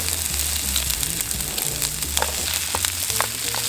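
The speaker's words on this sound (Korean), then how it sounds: "그리고 양파를 좀 넣어줍니다 다음에 순대를 넣어줄게요." Onion and sundae (Korean blood sausage) sizzle steadily in a pan at a seaside campsite, a continuous close frying hiss broken by occasional scrapes and stirring clicks, with no talking.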